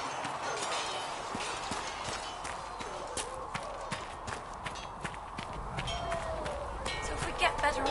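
Horse hooves clopping in Dragon Age: Inquisition, a steady run of hoof beats under a dense game soundscape with ambient noise throughout.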